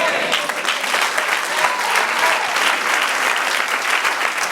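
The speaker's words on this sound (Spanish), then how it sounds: "Dele aplauso a Dios" A church congregation applauds steadily at a Spanish-language service, dense, loud clapping that holds evenly throughout without a break.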